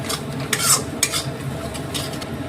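Repeated scraping strokes of a spoon stirring spices and cumin in a pan, over a soft background sizzle, close and fairly loud.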